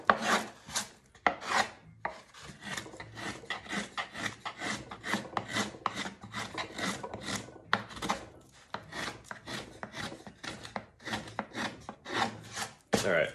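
A wooden soundboard for an octave mandolin being hand carved, with dense repeated scraping and shaving strokes in a steady rhythm, close and fairly loud, with no talking.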